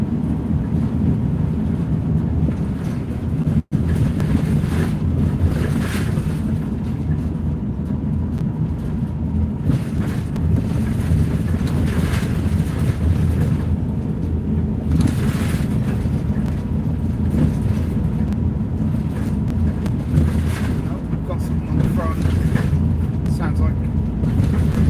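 Rebuilt van on a test drive, its steady low engine and road rumble droning on continuously with wind noise, under occasional talk.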